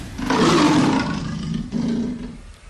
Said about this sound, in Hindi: एक तेंदुआ शेर की तरह दहाड़ता तो नहीं है, लेकिन उसकी गुर्राहट भी खतरनाक होती है